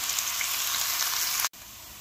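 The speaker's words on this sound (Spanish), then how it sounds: "Voy a poner la cebolla. Aquí que se fría bien." Onion fries in a pan with a steady, close, crackling sizzle, cut briefly by a short gap before it resumes.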